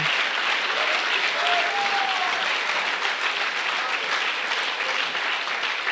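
A church congregation gives a loud, sustained ovation of dense applause that fills the space steadily from start to end, with a faint voice briefly rising above the clapping.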